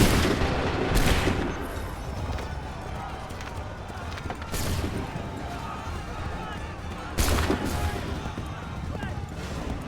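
Musket volleys in an American Revolution battle in Assassin's Creed 3 Remastered, three loud crackling bursts spaced a few seconds apart over a busy battlefield din, with voices talking throughout.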